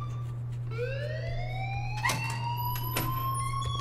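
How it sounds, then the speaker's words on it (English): An alarm rings in the video game Life is Strange, a rising electronic siren-like tone sweeping upward over a steady low hum, with a few sharp clicks partway through. "please turn off that alarm since that's your job"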